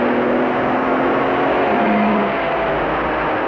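A Ferrari 158 V8 and other 1960s Formula One cars race past as engines howl at high revs, a sustained, fairly loud drone with a rising and falling whine as the cars go by.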